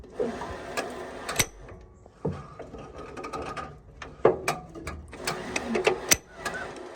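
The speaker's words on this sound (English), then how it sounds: "turn it over with the hand crank so I can check the point gap real fast" An old Allis Chalmers WC tractor engine is turned over slowly with a hand crank, giving irregular mechanical clicks, ratcheting clanks and metallic knocks at close range, with quieter gaps between strokes.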